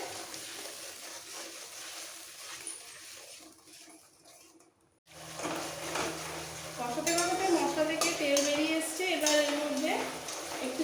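Green chili paste hits a pan and is stir-fried for a pabda fish jhal, with a quiet lead-in before scraping, clinking utensil-on-pan stirring and a light sizzle, and a voice talking over it.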